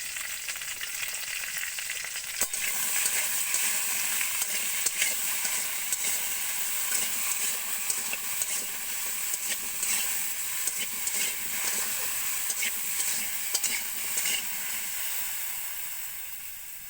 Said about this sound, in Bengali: এরপর ঢেঁড়সটাকে ভাজা করে নেব